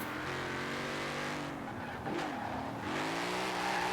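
A car engine revs loudly and steadily in Forza Horizon 4 on winter roads, rising and falling with throttle through switchback turns, with a brief tire squeal midway.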